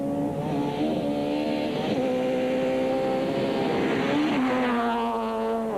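A Toyota Run-X S2000 rally car races past on a 2006 rally stage, its engine note loud and close, rising and falling through gear changes.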